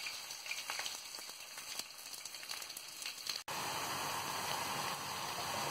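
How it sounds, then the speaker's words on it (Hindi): Sliced onion and cumin seeds frying in hot oil in a kadhai, a steady close sizzle with crackling that surges louder and denser partway through, no talking. "जीरा के बाद हम इसमें अपना स्लाइस से कटा हुआ अनियन डालेंगे।"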